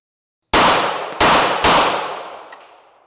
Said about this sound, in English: I was out shooting some guns with my friends the other day.